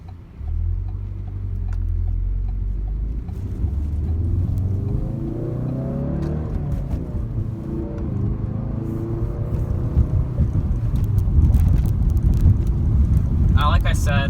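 A 2017 Ford Focus RS engine drones low and throaty from inside the cabin while driving, its pitch sweeping up and down with throttle and rising as the car pulls away, under a steady rumble of road noise.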